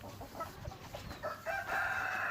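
Free-range village chickens loose around a coop cluck and call in a short, fairly close burst, with a brief crowing-like call rising toward the end.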